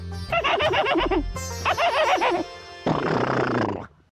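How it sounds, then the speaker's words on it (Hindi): Horses neigh in a Hindi period drama, three long whinnying calls in succession that are loud and close, each with a shaking, wavering pitch, with no one speaking over them. "आपका बादल और बाकी घोड़े भी वापस आ गए हैं हिन हिनाए के"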